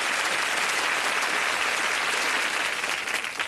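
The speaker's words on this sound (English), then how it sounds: "Six superb contestants. Give them a round of applause." Studio audience applause for six quiz contestants on a British darts game show, a dense, steady roar of clapping that stays loud throughout with no voices over it.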